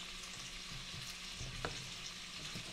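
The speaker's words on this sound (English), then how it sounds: "You're talking over that sizzle." Breaded green tomatoes, dipped in buttermilk, fry in a pan with a steady, close crackling sizzle that runs throughout, broken by a few small pops.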